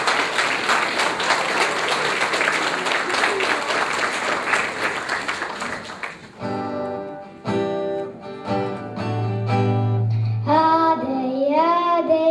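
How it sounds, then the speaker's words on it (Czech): Loud, dense applause from an audience at a social evening for seniors fills about six seconds, then gives way to music with sustained tones. "ještě jednou zaslouží pořádný potlesk"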